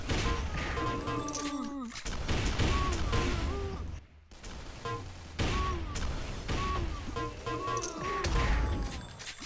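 Rapid rifle gunfire in a fast arena shooter duel, loud bursts of shots and impacts running almost continuously with a brief lull in the middle, no voices over them.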